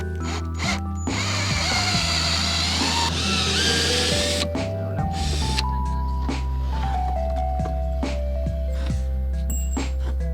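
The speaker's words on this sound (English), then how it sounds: "So as Julia screws in, I'm the muscle, I'm pushing in" A power drill drives screws into shelving being mounted inside a converted Astro van, with loud whirring bursts that rise and fall in pitch as each screw bites in, close up and continuous.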